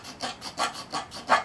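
A knife blade scrapes along a piece of wood to raise curls, making about five close, rhythmic rasping strokes, each a short swelling scrape with brief gaps between.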